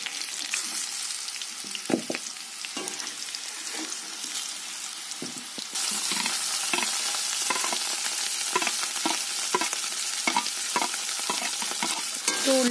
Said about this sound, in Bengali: উল্টে ভালোভাবে ভেজে নেব।